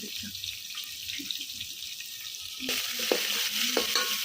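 Chopped onions dropped into hot oil in a pan on a husk-fired stove, a steady broadband sizzle that jumps louder midway as they go in, with faint stirring clinks and no talking.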